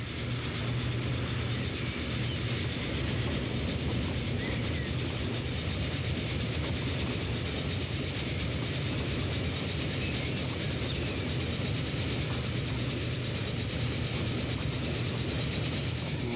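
A train in the video game Transport Fever rolls past with a steady, loud rumble and faint rhythmic clatter, continuous throughout and without talk.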